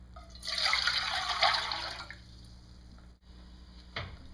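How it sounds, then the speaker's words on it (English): Chicken broth pours into a pot in a bright splashing stream for about two seconds, then quiets to a faint trickle and a last drip. "bring chicken broth to boil in a pot and pour your"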